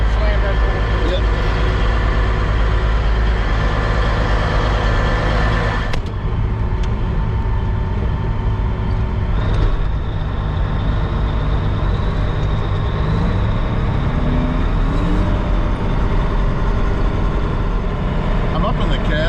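A big-bud-style 10X 890 tractor rated at 890 horsepower runs steadily during plowing, heard from inside the cab as a loud, continuous deep engine drone, while people talk over it.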